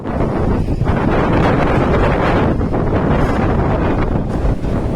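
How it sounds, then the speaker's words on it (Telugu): Strong wind roars continuously and loudly across the microphone with rough buffeting gusts during a rainy outdoor pilgrimage walk around Govardhan hill. "విపరీతమైన గాలి,"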